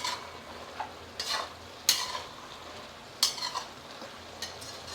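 Mushrooms fry in a pan, a soft steady sizzle broken by several sharp scrapes and clinks of a spoon stirring against the metal, close and fairly quiet with no talking.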